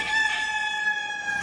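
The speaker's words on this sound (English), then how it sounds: "Roosters crow at the crack of dawn." A rooster crowing in a bootleg Kung Fu Panda cartoon: one clear, loud cock-a-doodle-doo heard alone, bright and sustained through the short clip.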